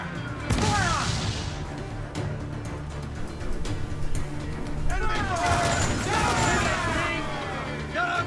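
Upgraded ship cannons fire in Assassin's Creed IV naval combat, sharp booming blasts with crashing impacts scattered across the stretch, loud and near, mixed with game effects and people talking.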